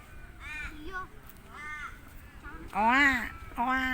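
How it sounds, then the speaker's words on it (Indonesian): Crows caw repeatedly in harsh, nasal calls, a few spaced bursts with the loudest near the end, heard fairly close with faint background noise. "Bunyi burung itu."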